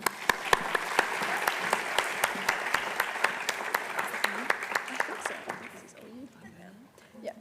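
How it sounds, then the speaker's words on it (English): Sustained audience applause at a college awards ceremony, with many hands clapping steadily and loudly from start to end and then thinning out over the last couple of seconds. "let's clap them off stage as well"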